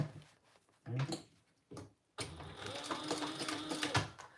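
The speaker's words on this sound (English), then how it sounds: "So now I'm going to go ahead and top stitch that." A sewing machine top-stitching a triple zipper runs in two short bursts, then settles into a longer steady whirring run, quiet and close.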